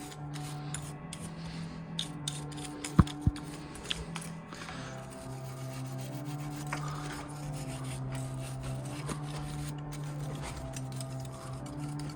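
A BMX bike reflector being scrubbed clean with a brush, close scratchy rubbing strokes in an uneven rhythm with a few sharp clicks, over a low steady background hum.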